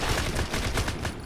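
Rapid gunfire at a firing range in the video game Bad 2 Bad: Apocalypse, a dense run of loud, overlapping shots with no talk over it.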